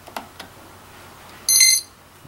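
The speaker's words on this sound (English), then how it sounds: "and we heard the long beep." A single loud electronic beep lasting about a third of a second comes from an RC electronic speed controller during throttle calibration, after faint handling clicks in a quiet room.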